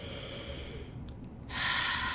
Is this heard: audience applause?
no